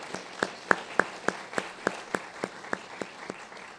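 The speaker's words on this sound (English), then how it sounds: "I just want to have a round of applause for her very quickly" Sparse, modest audience applause at an evening arts event, a few distinct claps standing out in a steady rhythm from a small, fairly quiet crowd.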